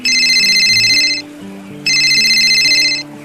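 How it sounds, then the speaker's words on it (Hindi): A bright electronic phone ringtone plays a repeating melodic pattern in two loud bursts, separated by a short pause, with a soft tune continuing underneath. "तभी मन्नू का फोन बजता है।"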